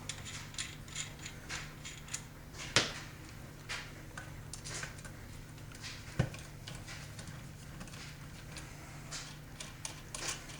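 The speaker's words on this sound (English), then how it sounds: "I have 2 screws for these bases, and I will just loosen those up" Scope base screws on a Marlin 336 rifle are loosened, giving quiet close-up metallic ticks and clicks, with two sharper snaps among the faint handling noise.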